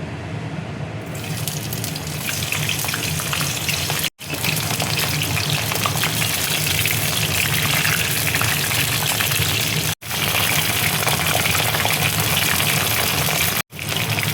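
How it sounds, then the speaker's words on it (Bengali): Cauliflower pieces sizzle in hot oil, a loud continuous crackling hiss with brief cuts in between, no voices present. "এবার দেখো তেলের মধ্যে আমি ফুলকপিগুলো দিয়ে দিচ্ছি।"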